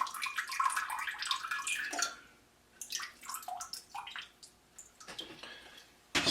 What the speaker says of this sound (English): So I'm just going to drain them off.